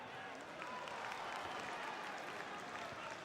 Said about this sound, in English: Chris Wilder applauding the endeavour of his players here as they hunt for the winning goal